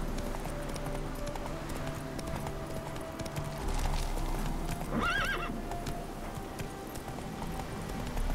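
In The Witcher 3 video game, horse hooves clip-clop steadily while the horse gives a brief neigh partway through, over game ambience with no talking.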